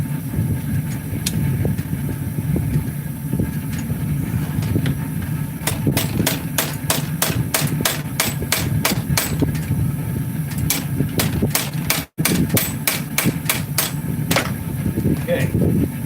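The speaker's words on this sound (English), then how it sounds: "let's set this rivet" Repeated metal hammer strikes setting a rivet while forging tongs, a steady series of sharp clanks in two bursts over constant background noise.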